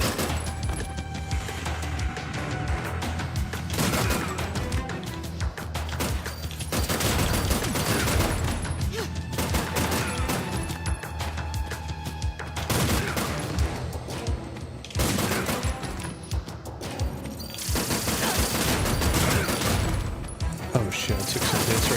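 Dense, continuous gunfire and explosive bursts in a video game, loud and relentless throughout with crashes and booms layered over game music.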